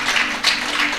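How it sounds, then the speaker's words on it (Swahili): A church congregation applauds during a worship service, a brief burst of dense, loud clapping from many hands with no pause. "Yesu makofi kwa ajili."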